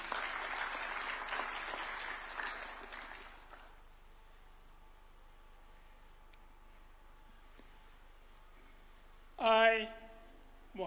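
Applause greets a newly sworn Supreme Court judge at a presidential swearing-in ceremony, a burst of clapping that fades away into quiet, followed by a brief spoken moment near the end.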